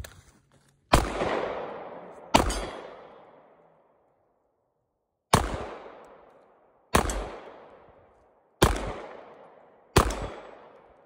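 Six sharp pistol shots from a Walther PDP Full Size ring out loud and close at uneven intervals, each crack trailing a long echoing decay, with a longer pause between the second and third.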